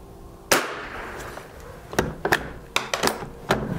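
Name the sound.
rifle shot from old Stevens No 66 bolt action .22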